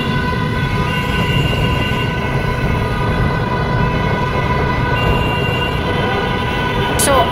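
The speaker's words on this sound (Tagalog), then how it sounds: "yung tunog na pag pumasok dito yung mga sasakyan, ganito sila kaingay." Road traffic roaring through the Kaibiyang Tunnel, a continuous loud, reverberant wash of engine and tyre noise filling the enclosed space, with a brief sharp high-pitched squeal near the end.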